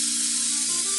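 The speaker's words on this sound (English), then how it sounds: "spray some of our Tusk first line contact cleaner on that rag" A short, steady hiss of Tusk First Line contact cleaner sprayed from an aerosol can onto a rag while servicing KYB PSF1 motorcycle forks, close and continuous for about a second with no talking.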